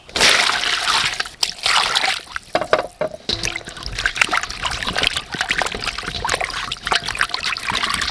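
Running tap water pouring and splashing over a pork tail being washed, a close, irregular trickle and splatter with brief pauses and sloshing movements.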